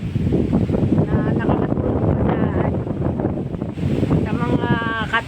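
Strong wind blasting an outdoor microphone, a loud steady rumble that lasts throughout, with a voice talking underneath.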